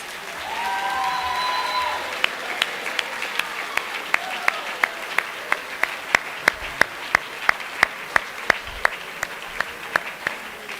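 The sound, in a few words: audience applause at a school band concert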